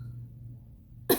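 A single short, abrupt cough near the end, loud and close after a moment of quiet low hum, from a 21-year-old woman living with stage 4 cancer who has a lingering cough.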